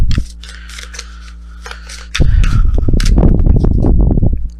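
Tarot cards being handled and drawn from a deck during a reading: a hum at first, then a loud burst of close, crisp rustling and shuffling card noise.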